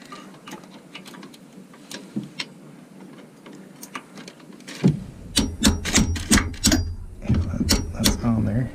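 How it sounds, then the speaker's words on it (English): A hammer bangs on a 5/8 socket during Volvo Penta boat engine maintenance, with sharp metallic knocks coming quicker and louder in the second half among clattering handling sounds. "I'm just going to take a hammer and bang them in there"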